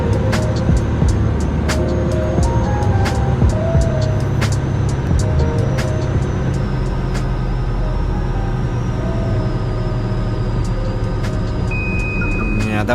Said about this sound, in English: let's now come in for another landing,